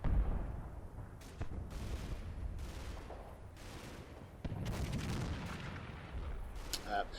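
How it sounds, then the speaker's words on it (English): A flak wagon fires on a church in the WWII tactical game Combat Mission, with repeated booming shots and bursts of automatic fire echoing at mid distance over a low rumbling battle backdrop. "the flak wagon here is shooting up the church"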